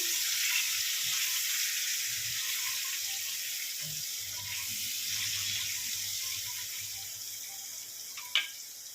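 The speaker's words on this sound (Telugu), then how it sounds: "గుడ్లు ఫ్రై అవుతుంది" Eggs frying with turmeric and salt in a pan, a steady soft hiss and crackle running throughout with faint scattered pops, fairly quiet and close, and a brief sharper clink near the end.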